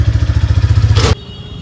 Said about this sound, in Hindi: तो भाई हमारी बाइक हो गई स्टार्ट, बुलेट।